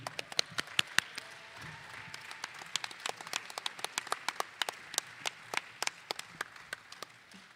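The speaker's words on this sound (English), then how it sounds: "Give him a big applause." A small audience at an environmental and climate council event claps for a senior advisor to the vice president, sparse sharp individual claps at close range in an irregular scattered rhythm.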